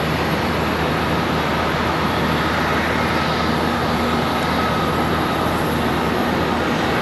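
Airliner rolling along the S-curve taxiways off the runway at Charlotte Douglas airport, a steady broadband engine roar with a faint whine held at a constant level throughout, no talk.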